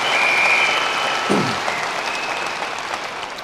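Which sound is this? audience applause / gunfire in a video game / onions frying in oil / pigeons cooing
audience applause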